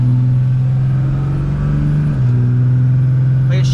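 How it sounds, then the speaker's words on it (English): A 2002 Ram 2500 Cummins diesel pickup with an upgraded transmission accelerates gently, its loud, close engine drone holding steady and then stepping up in pitch partway through. "Just give it a little acceleration."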